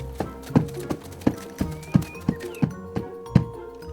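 Large, heavy foley hoof props for the animal character Pete knock out a steady clip-clop walking rhythm, about ten weighty, hollow hits in four seconds, close and dry.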